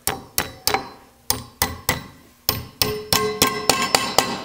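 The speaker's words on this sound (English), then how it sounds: "First thing I'm going to do is I'm going to just take a hammer." A hammer strikes a piece of metal clamped in a vise in a woodturning shop, about fifteen sharp ringing blows in uneven rhythm, sparse at first and quickening toward the end, loud and close.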